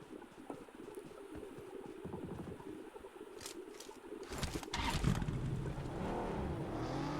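Vehicle driving in the video game BGMI, a faint engine hum that revs up and rises toward the end, with in-game background noise and no talk.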